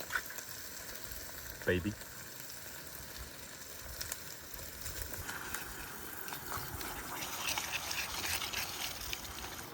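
Chopped tomatoes sizzle and bubble in a pan on a camp stove outdoors, a steady close frying hiss that builds slightly louder, with brief talk over it.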